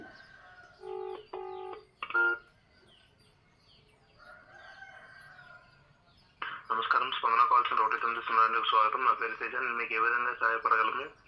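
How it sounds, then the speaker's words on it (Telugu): A phone dialing the 1-9-0 helpline: a short run of electronic keypad tones sounds at the start. After a quiet pause, a louder, steady stretch of tonal voice-like audio comes through the line. "వాళ్ళ దగ్గర వన్ నైన్ జీరో కాల్ చేసి"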